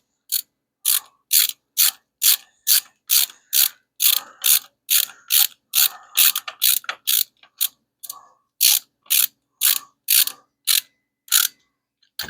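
A ratchet clicks in quick repeated bursts while engine mount bolts are snugged up on a Plymouth Duster getting a Hemi installed, sharp close metallic pawl clicks in steady runs with brief pauses between strokes.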